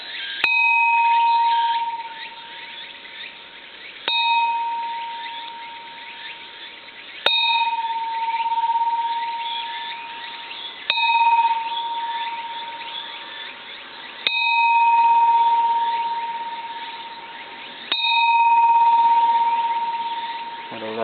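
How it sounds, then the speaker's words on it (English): A Japanese bronze Buddhist temple bell is struck with a striker six times at a slow, even pace. Each clear, sustained ring fades out slowly before the next strike, and quiet talk can be heard in between. "Personal bell."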